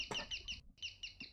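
Inside a video game, a bird clucks in a quick series of squawky, chicken-like calls, loud and near, broken by a brief pause partway through.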